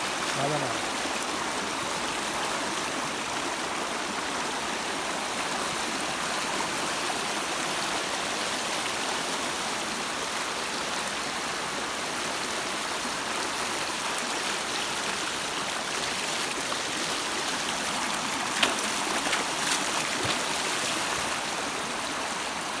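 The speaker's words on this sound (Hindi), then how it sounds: "ये देखो पानी का बहाव देखो एक बार।" A river flowing steadily, its broad, even rush of water filling the scene from start to finish with no breaks, heard close by.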